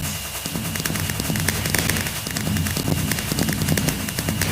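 Fireworks in Minecraft crackle and pop in a dense, continuous barrage of rapid bursts, loud and close, with no talking.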